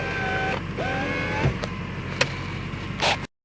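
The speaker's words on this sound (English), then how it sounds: "Let's open the window so we could hear it." An electric motor whines steadily as a 1996 Toyota Camry's window slides, followed by a few sharp clicks and thumps, then abrupt silence.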